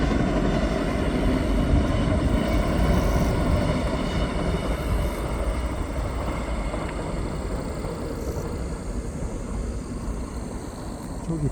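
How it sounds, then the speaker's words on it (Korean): A Mugunghwa passenger train from Seoul rolls past along the lower Miryang River with a loud, continuous rumble that eases slightly as it goes by. "지금 이제 서울에서 내려온 무궁화, 무궁화호 열차가 이제 지금 내려가는"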